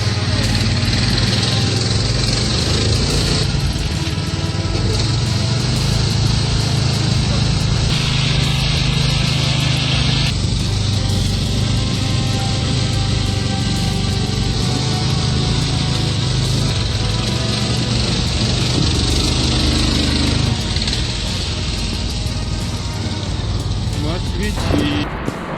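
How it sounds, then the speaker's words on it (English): A tractor plows through mud, its heavy engine droning loud and steady throughout, with a voice talking over the sound. "The tractor plowed through the mud as if nothing was in its way."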